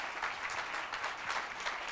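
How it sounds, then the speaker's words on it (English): Applause at a Toastmasters conference as a speaker is called up, a soft, distant wash of clapping with slight swells, fairly faint and brief. "come on up, round of applause"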